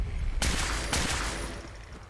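Rifle gunfire in Fallout 4 rings out as two loud, close shots about half a second apart, each with a long echoing tail that fades away.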